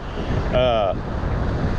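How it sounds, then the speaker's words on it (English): Wind buffets the microphone on a beach at Tybee with a constant low rumble, and a brief tonal blip rises over it near the middle. "It is windy out here. I'll cup the microphone a little bit, see if that helps."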